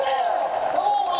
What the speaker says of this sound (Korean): 거대한 베스가 나타날 때마다 관객들의 환호가 쏟아지는데요